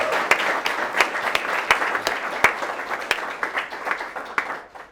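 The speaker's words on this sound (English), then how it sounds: "let's clap because that got a lot" An audience at the Sherman Center reopening bursts into brisk applause, with sharp individual claps standing out within the crowd and tapering off toward the end.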